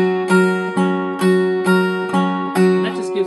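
Acoustic guitar plucks a looped open D pattern in the style of a song, strong ringing bass strings under a changing top note, struck in even, repeated phrases about every half second.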